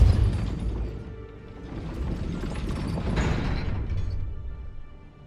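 Depulso spell effect in Hogwarts Legacy: a dense magical whoosh and rumbling burst that swells, holds for a few seconds, then fades out.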